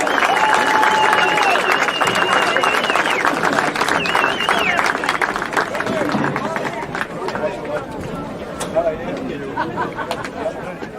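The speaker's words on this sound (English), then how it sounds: "Let's have one final round of applause for the Keene State men's lacrosse senior class." A crowd at a Keene State men's lacrosse game against Plymouth State applauds its senior class with sustained clapping, whistles and cheers mixed with crowd chatter, gradually easing off toward the end.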